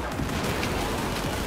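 Gunfire in a video game shooter, a dense, continuous barrage of loud shots and blasts packed together with no pauses.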